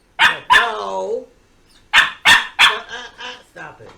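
A trained puppy barks in sharp repeated bursts: two loud yaps, then a pause, then a run of four or five quicker barks fading toward the end, close and clear with no talking over them.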